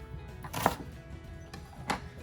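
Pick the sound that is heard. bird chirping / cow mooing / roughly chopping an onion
roughly chopping an onion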